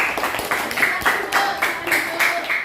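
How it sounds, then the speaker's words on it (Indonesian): A classroom claps for a student group, with several rhythmic bursts of applause close by and a voice speaking over the start. "Oke, tepuk tangan untuk kelompok Al-Basir."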